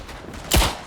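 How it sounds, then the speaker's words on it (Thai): One short, heavy burst of machine-gun turret fire in the World War I shooter game Tannenberg, a single booming volley over faint background rumble. "ผมจะเอาป้อมปืนไปยิงมัน"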